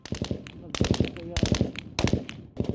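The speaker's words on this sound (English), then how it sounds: "Steady gunfire." Bursts of rapid gunfire crackle in repeated clusters, loud and close, with short gaps between volleys, near Rafah in Gaza.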